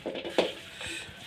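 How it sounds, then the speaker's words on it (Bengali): Chopped onion stirred into mashed hilsa fish bharta in a pan, a spoon scraping and clinking against the metal in a few soft, close strokes, quiet and without talk. "এখন পেঁয়াজ মিক্স করা হচ্ছে"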